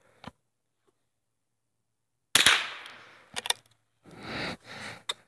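A few sharp gunshots from a small handgun at a shooting session: one lone report, then a loud burst of shots followed by two more pops and a final shot, each cracking close and clear with no talking.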